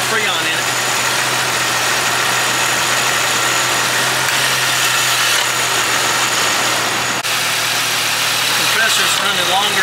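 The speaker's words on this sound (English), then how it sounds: "Compressor's running longer and longer." A 1998 Jeep engine idles steadily and close by with its A/C compressor running, a constant mid-pitched hum and vibration that holds throughout.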